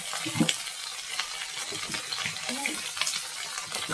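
Pointed gourd frying in hot oil with a little turmeric and salt, a steady close spitting sizzle with scattered pops and light clatter throughout, no voices.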